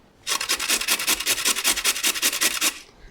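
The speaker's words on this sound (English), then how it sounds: "Grate your carrots." Carrots are rasped against a hand grater for a bolognese, about a dozen quick, even scraping strokes in a steady rhythm, close and clear with no voices.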